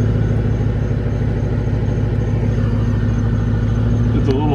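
A Coyote-swapped Ford Mustang engine with a Delta Flow muffler runs close by with a loud, steady, deep rumble. Voices talk over it, and a brief rising tone sounds near the end.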